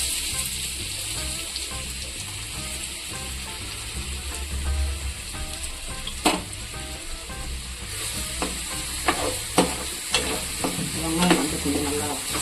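Onions frying in hot oil for a chicken samosa filling, a dense continuous sizzle with spatula scrapes and sharp stirring clicks growing busier toward the end, close up and without talk.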